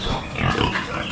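A heavily pregnant farm pig grunts in short, close, rough bursts that rise and fall over a steady outdoor background.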